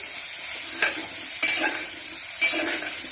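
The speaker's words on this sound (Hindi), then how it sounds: "इसको हम 3 से 4 मिनट ऐसे ही फ्राई करेंगे।" Potato, eggplant and radish pieces fry in a pan with a steady loud hiss of sizzling oil, broken by a few stirring scrapes as the vegetables are turned.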